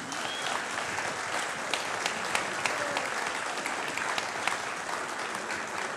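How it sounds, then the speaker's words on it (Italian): An audience applauds conductor Maestro Marco Pasquini at a Filarmonica Capezzano Monte band concert, with a steady mass of clapping and a few sharper individual claps standing out, sustained throughout. "Farei ancora un applauso al maestro Marco Pasquini."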